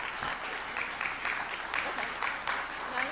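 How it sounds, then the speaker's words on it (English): A crowd claps steadily, a dense patter of many hands that carries on evenly throughout. "Now you can stop clapping"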